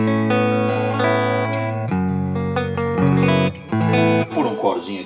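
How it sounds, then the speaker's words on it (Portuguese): Warm, rounded electric guitar tone on the neck pickup with sustained chords and single notes, fairly loud and smooth, ending in a few brighter picked notes. "esse é o som do captador do braço"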